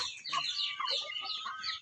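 A chicken on a farm clucks and squawks in quick agitated bursts while it is being caught, loud and close, filling the whole moment.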